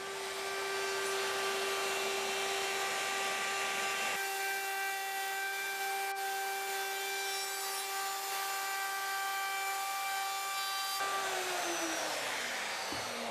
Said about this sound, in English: now you can use your router with a bearing guided trimmer to run around the outside and cut back all this excess overhang